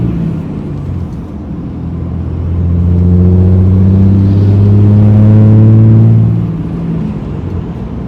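A 2003 Dodge Cummins truck with an NV5600 transmission drives and shifts gears, its diesel engine rising into a loud, steady drone from inside the cab before easing back down.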